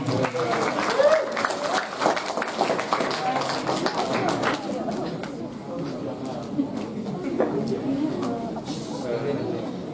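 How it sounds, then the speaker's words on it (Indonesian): Applause from a school seminar audience during an orientation week event, a steady spatter of many hands clapping in a large room, with voices and crowd murmur mixed in as it tapers off. "Tepuk tangan dulu untuk Fahmi Ramadhani."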